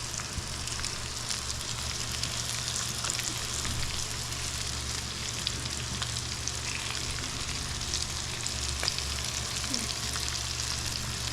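Small fresh peri chivni fish fry in a pan with steady, dense sizzling and crackling oil that holds even throughout, close and fairly loud, with no voices.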